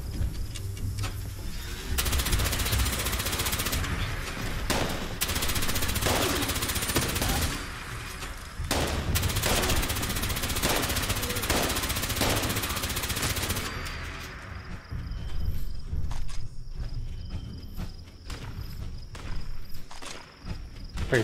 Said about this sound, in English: They gotta be shooting at that turret there.